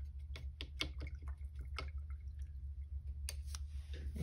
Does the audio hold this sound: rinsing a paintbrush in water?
yes